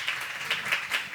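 A youth council audience applauds its president, a dense, steady wash of many hands clapping at close range with a few louder surges, heard with no voices over it.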